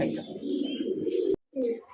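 A pair of Modena pigeons cooing, a low throaty burbling coo held for over a second, then a brief silence and a second shorter coo, close and clear.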